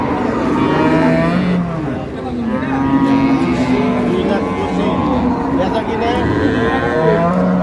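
Cows and calves moo repeatedly in long low calls at a cattle market, several animals overlapping, loud and close, with people talking faintly underneath.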